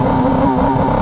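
A Kawasaki Ninja ZX-10R KRT motorcycle engine held at high revs on launch control, a loud, close, steady buzzing drone with no talk.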